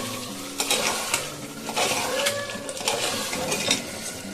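Biryani masala is stirred into mutton in a pot on a home stove, with scraping spoon strokes, metal clinks against the pan and a low sizzle running underneath, close and fairly loud with no talking.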